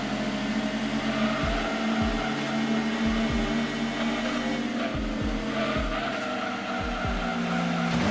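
Race car in the Gran Turismo video game: a continuous loud engine drone with repeated falling downshift sweeps roughly every second, plus faint tire squeal, steady and close throughout.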